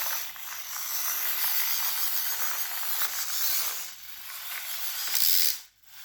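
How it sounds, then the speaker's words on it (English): Toy bulldozer motor straining so its gears jump the cogs, giving a steady high whirring rattle with ratcheting clicks that runs for several seconds before cutting off sharply. "you can't really stress that motor a bit too much because it then just jumps the cogs"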